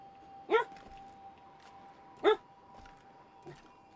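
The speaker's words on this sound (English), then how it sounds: "I do apologize if the barking is bothering you guys." A dog barks indoors, two sharp single barks a couple of seconds apart followed by a fainter third, each short and moderately close against a quiet background hum.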